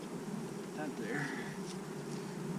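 A dense swarm of honey bees buzzes loudly and continuously at an open hive during an inspection, a thick steady drone close to the ear.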